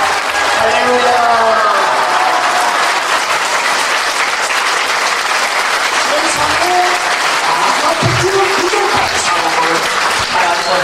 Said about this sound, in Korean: 최고의 박수를 하나님 앞에 드립니다